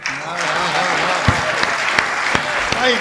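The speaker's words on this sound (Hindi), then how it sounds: "तालियां कमजोर हैं दोस्त, इटावा वाली तालियां नहीं है।" Dense, steady applause from a Hindi poetry recital audience fills the space, close and sustained at an even level, with a few sharper claps standing out and a voice faintly beneath.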